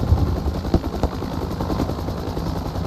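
Helicopter in a military video game, a continuous rotor drone with thumping beats heard close and loud, with faint sharp shots mixed in and no talking.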